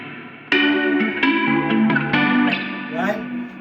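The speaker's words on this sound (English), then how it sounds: "I'm gonna add the flanger." Electric guitar run through a flanger pedal rings out in several strummed chords with sweeping, whooshing swirl and reverb tails, loud and up close with no talking.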